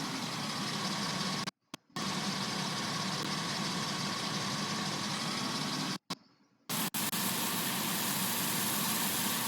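A pickup truck's engine drones steadily under a heavy load in Farming Simulator 19, a continuous mid-level hum with two brief dropouts where the sound cuts out.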